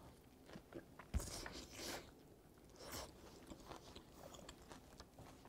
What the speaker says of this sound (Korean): 먹어봅시다. 클래식 버거.